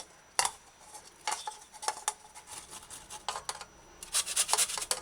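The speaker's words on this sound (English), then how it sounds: "Just use this little small garlic grater that I use to grind garlic and shred the pumpkin to puree" Pumpkin shredded into puree on a small garlic grater for salted fish pumpkin rice: close, repeated scraping strokes in uneven bursts, growing busier toward the end, with no talking.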